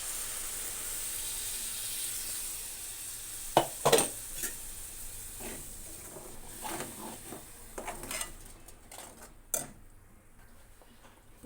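Blended tomato gravy from three tomatoes poured into hot masala with garam masala, giving a steady soft sizzle with a few sharp stirring clinks and scrapes of a spoon against the pan, close by.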